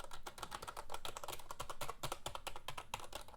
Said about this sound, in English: It has a very springy sound to it, and it can be very loud if you're typing at nighttime